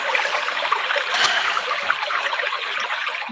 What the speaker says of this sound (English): it's amazing how just the sound of that waterfall can immediately just